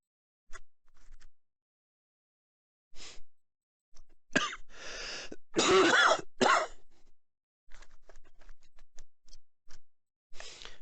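A person still recovering from an illness coughs and clears their throat several times in a quiet room. The rough bursts bunch together in the middle, with faint clicks and scratches scattered around them.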